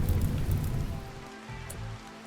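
Steady rain from the RimWorld video game, a dense broadband patter that is loud at first and eases slightly, with no talk.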